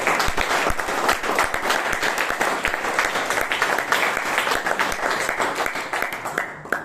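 A Toastmasters club meeting in Bangalore gives a long round of applause, a crisp, close clatter of many hands keeping up a steady pace for several seconds before tapering off at the end.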